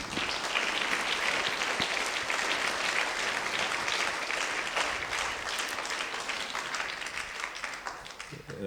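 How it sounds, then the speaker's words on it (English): A school sports awards audience gives a steady round of applause for the award recipients, dense even clapping held throughout, easing slightly near the end. "you guys can give yourselves a round of applause"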